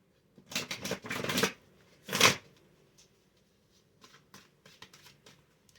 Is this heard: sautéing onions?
no